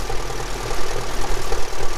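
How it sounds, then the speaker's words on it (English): A 1958 Massey Ferguson 35 tractor engine running on TVO fuel chugs steadily at idle, loud and close, with a low rumbling, slightly knocking beat throughout and no voices. "You're going to hear it still running. So 1958, Massey Ferguson 35 TVO."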